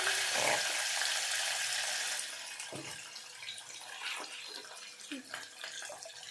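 Sliced onions hitting hot oil in a pan for pulao give a loud, broad sizzling hiss that settles after a couple of seconds into a quieter bubbling crackle, with a person talking over it.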